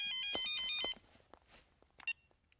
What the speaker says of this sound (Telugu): నీలు, ట్రావెల్స్ నుంచి ఫోన్.